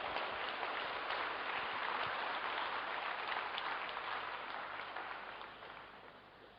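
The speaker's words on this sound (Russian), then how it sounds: "Итак, ваши аплодисменты, приглашаем пастора." A church congregation's applause welcoming the pastor, a dense, steady wash of clapping that gradually fades out toward the end.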